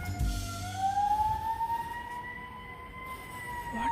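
Fire truck siren at a fire museum, set off by a push button: a steady rising wail that climbs and holds for several seconds, fairly loud and alone with no talk over it.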